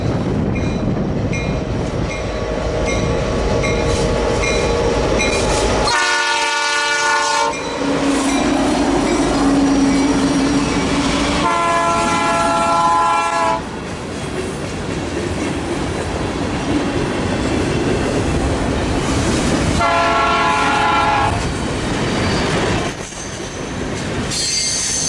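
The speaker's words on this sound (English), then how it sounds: "An SD75i and Dash 9WL led the train through the smoke around 8 o'clock in the evening" CN mixed freight train led by SD75i and Dash 9WL locomotives rolls past in evening forest-fire smoke, a loud continuous rumble with repeated high wheel squeals and clickety-clack throughout.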